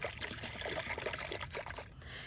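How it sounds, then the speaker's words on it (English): Isopropyl alcohol pours steadily into a bucket, a close, continuous trickling and splashing stream that runs unbroken before tapering off at the end. "Another thing I'm going to do is fill up a bucket with isopropyl alcohol."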